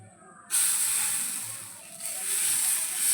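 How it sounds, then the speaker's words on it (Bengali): Semolina tiffin snacks frying in a pan with oil, a loud steady sizzling hiss that starts abruptly and continues with slight swells, close up, without talk. "এভাবে করে আমি সবই টিফিনগুলো কিন্তু ভেজে নেবো"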